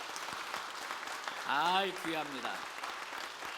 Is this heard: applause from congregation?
yes